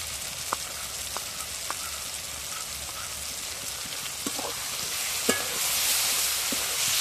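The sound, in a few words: frying ridge gourd with ground spice paste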